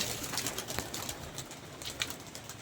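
Pigeons coo on a Lahore rooftop, soft repeated calls over a dense outdoor hiss.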